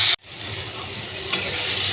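Ginger-garlic paste and onion frying in oil as they are stirred, a close steady sizzle that cuts out briefly at the start, then resumes and swells with a scrape of the spoon.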